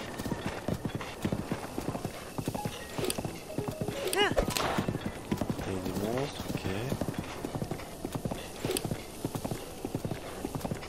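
Horse hooves gallop in a steady clip-clop rhythm while riding through open terrain in Zelda Breath of the Wild, continuous and fairly close, with a brief whinny and game music, under someone talking throughout.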